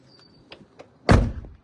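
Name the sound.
van door shutting with a thud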